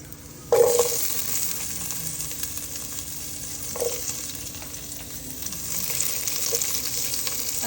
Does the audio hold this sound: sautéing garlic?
yes